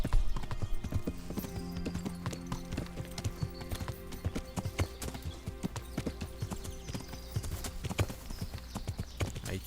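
A horse gallops in Kingdom Come Deliverance, its hooves drumming in a dense, rapid stream of clip-clops, close and continuous throughout.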